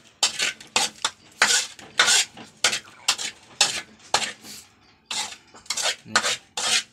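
Larb made with chicken offal, toasted rice and crab being scooped and scraped into a bowl, a series of close, loud rasping scrapes and clinks in an uneven rhythm with short pauses.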